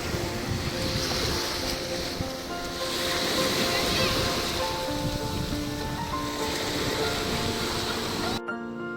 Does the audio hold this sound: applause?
no